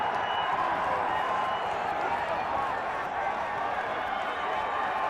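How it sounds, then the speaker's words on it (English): A crowd at the Kenya Cup rugby final between Kabras Sugar and Menengai Oilers keeps up a broad, steady roar of cheering and clapping, with commentary running over it. "The crowd is excited"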